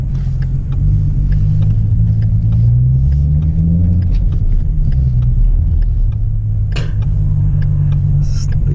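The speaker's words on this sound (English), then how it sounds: "The car is sliding." A car driving on a road through a local shopping center on a winter day, its steady low rumble and tire noise continuous and close, with a brief skid-like sweep near the end.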